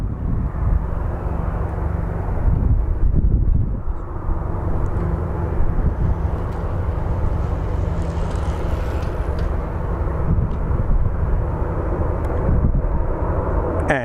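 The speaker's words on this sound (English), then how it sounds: "And here's our first departure, the Minneapolis flight" An airliner departs Phoenix Sky Harbor on a flight to Minneapolis, its jet engines a loud, steady roar heard from the ground as it climbs away.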